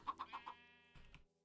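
A Minecraft chicken in a 1.18.1 survival world clucking: four quick evenly spaced clucks, a brief pause, then a couple more soft clucks and a sharp final note, heard alone.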